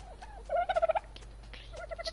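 A small chicken-like creature in the survival game ARK, an oviraptor, lets out a quick run of gobbling clucks, then softer chirping calls follow, fairly close and with no voices.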